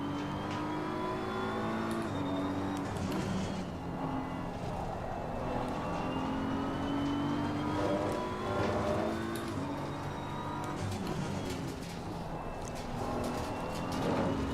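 Race car running a lap on a circuit, its engine droning steadily and loudly throughout with rising and falling revs and shifting harmonic pitch, no voices.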